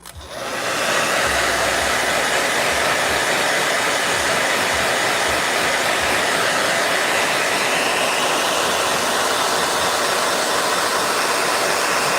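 A hair dryer whirs on and keeps blowing at a steady, loud, unbroken whoosh with no other sounds.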